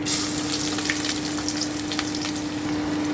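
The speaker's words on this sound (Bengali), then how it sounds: "হালকা করে একটু ভেজে নিচ্ছি এক থেকে দু মিনিট" Chopped onion fries gently in oil over low heat for a spicy fish roe curry, giving a steady, close, even sizzle that stays unbroken throughout, with a few faint crackles on top.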